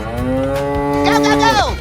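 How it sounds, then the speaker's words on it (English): A cow in a 3D animal video game gives one long, loud moo, steady and close, rising slightly before trailing off. "Cow."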